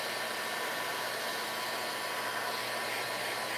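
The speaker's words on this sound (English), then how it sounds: "I'm just gonna dry this really quick. I'm sorry for the heat gun noise." A heat gun blows steadily to dry fresh paint inside a container, giving a loud, constant hot-air roar with an even hiss that holds without a break and no talk over it.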